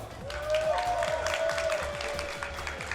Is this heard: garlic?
no